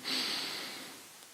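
A single audible breath during a mindfulness exercise, a close airy exhale that starts strong and slowly fades over about a second.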